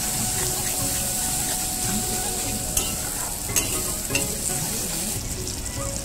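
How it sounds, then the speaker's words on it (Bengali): Spices such as chili powder, turmeric, garam masala and salt sizzle steadily in a pan while being stirred, with a continuous frying hiss, a few scraping clicks of a spoon, and faint background noise. "সব মশলাগুলো দিয়ে আমি ভালো করে নেড়ে নেবো ভালো করে"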